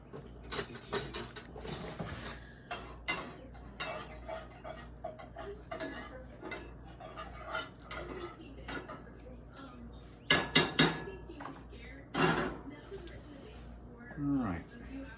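Meatball sauce being stirred in a pot: scattered metallic clinks and scrapes of a utensil against the pot, close and intermittent, with a sharper cluster of clanks near the end, amid household background.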